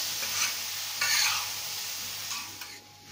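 Boiled, crushed potatoes are stirred into a pav bhaji vegetable mix in a pan, giving close, wet scraping strokes in uneven bursts over a faint sizzle.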